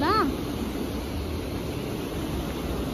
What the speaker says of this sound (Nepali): फेरि पानी पर्यो कति ठुलो आउँछ नि त यो खोला